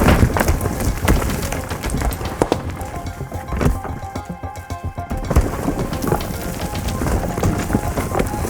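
A hailstorm with rain and thunder: loud, dense pattering and hissing downpour with low rumbling thunder, easing slightly midway before the heavy rain returns.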